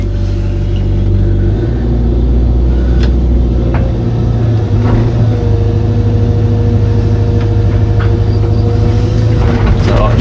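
An old Hitachi excavator fitted with a ditching bucket works nearby, its diesel engine rumbling low and steady while scattered clanks and knocks from the machine break through the drone.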